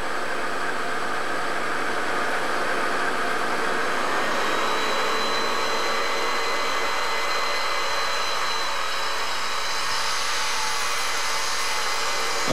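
A Dyson bagless vacuum cleaner runs with a steady, loud broadband whir and a faint high whine that holds evenly throughout, with no voices.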